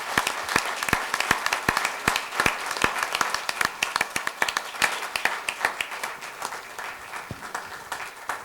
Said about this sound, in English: One more big round of applause, ladies and gentlemen.